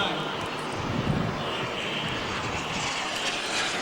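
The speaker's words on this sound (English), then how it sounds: "Much bigger engine, probably just a little bit slower." A large radio-controlled model military jet, an M339, flies at a club air show, its engine giving a loud, steady roaring drone throughout, with voices faintly mixed in.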